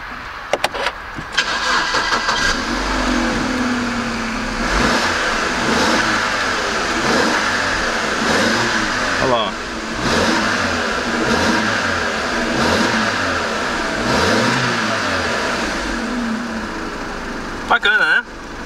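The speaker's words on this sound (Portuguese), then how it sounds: "vamos ligar o carro aqui, ver como ele ficou" A car engine cranks and catches, then settles into a running idle with repeated revs swelling and falling over nearly twenty seconds, close and steady, with a few sharp clicks at the start and end.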